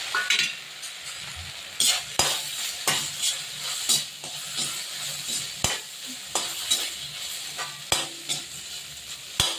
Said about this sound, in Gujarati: હવે એમાં આપણે ઇડલીને વઘારી નાખીશું